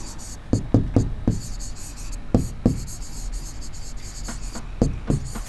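Chalk or marker writing on a classroom board during a Class 6 maths lesson, scratchy strokes coming in short clusters with pauses between, close and fairly clear, with no talking over it.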